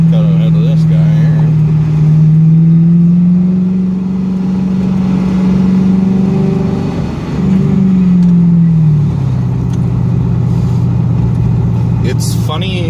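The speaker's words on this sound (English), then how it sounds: "Number two, it's a loud cop car, not super quiet like most cop cars are." A loud former police car drives along a road, its deep engine drone steady and close, with pitch rising and falling as it accelerates and eases off. Someone talks over the engine throughout.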